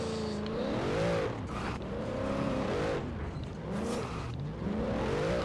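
A Cadillac Escalade engine revs repeatedly during a wheelie attempt, pitch climbing and falling in several surges over a few seconds, loud and close with no talking.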